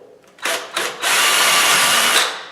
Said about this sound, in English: we're going to pre-drill it so we don't split the wood